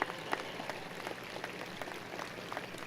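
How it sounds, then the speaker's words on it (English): A commencement audience applauds the faculty, a faint, steady patter of many hands clapping from a distance, continuous for a few seconds. "please show your thanks and applaud these dedicated individuals who have guided you"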